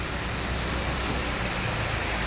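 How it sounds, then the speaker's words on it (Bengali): Steady downpour of rain after a long morning of rainfall, a constant broadband wash of close hiss with no breaks and no voices. "আজকে সকাল থেকে বৃষ্টি, মনে হচ্ছে কতদিন ধরে বৃষ্টি হচ্ছে"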